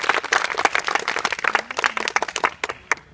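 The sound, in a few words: audience applauding for Roshan Yadav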